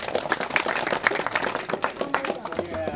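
An audience at a felicitation ceremony honouring dholak masters claps with quick, scattered hand strikes while a voice speaks over the applause.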